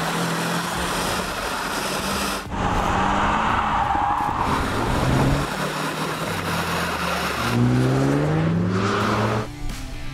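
Jaguar F-Type P300 four-cylinder accelerating hard on a circuit, loud engine with rising pitch sweeps through gear changes and wind roar, heard close from inside.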